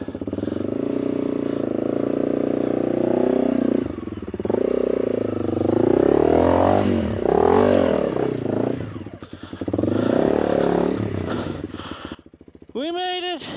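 A dual sport motorcycle climbs over rocks, its engine revving and labouring loudly in surges with clattering and scraping, a rider's voice breaking in briefly near the end.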